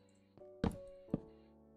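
Doors are placed in Minecraft with two soft, hollow wooden thunks about half a second apart, quiet and close over a faint tonal background hum.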